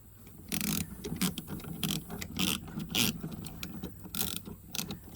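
A hand ratchet clicks in repeated bursts while tightening an 8mm bolt on a 2012 GMC Sierra 1500 headlight, close and fairly loud, with brief pauses between strokes.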